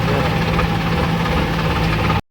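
A tractor engine idles nearby at a steady, continuous low rumble with a faint knocking pulse, running alone for about two seconds before cutting off abruptly.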